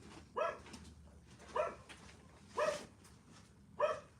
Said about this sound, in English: Dogs are barking again.